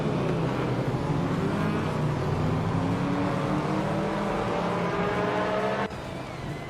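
Engine of a 1983 Sauber C7 in a racing video game, a steady droning roar held at constant loudness with rising engine tones, then a slight drop near the end; no voices.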